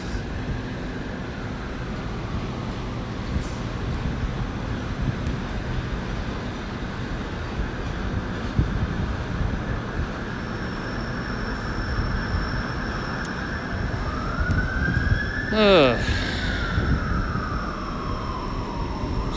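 Trains pulling out of London Paddington on the Great Western Main Line, including a GWR Class 800 unit bound for Swansea: a steady rolling rumble throughout, with a brief rising and falling tonal squeal near the end.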